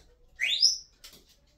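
A pet parrot makes a short rising whistle, bright and clear at close range, followed by a brief softer chirp, in a quiet indoor room.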